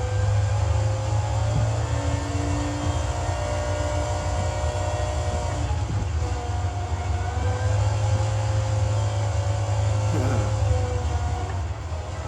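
A turbocharged car in Gran Turismo 7 accelerating, heard as a steady, loud engine drone with a strong low hum and higher whining tones that shift gradually, alone with no voices.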